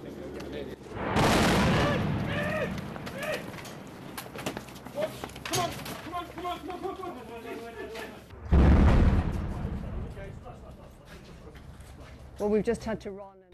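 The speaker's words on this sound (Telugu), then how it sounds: "అక్కడ భారీగా పేలుడు శబ్దాలు వినిపిస్తున్నాయి" Two heavy booms from shelling, one near the start and one midway, break through ongoing talk, followed by rumbling and crackle.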